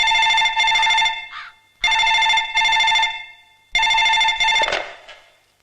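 An office telephone rings in a comedy film scene, giving three long electronic trilling bursts separated by short pauses, loud and close, with no voices heard.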